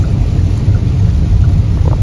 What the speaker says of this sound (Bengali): প্রচন্ড জোরে বৃষ্টি হচ্ছে,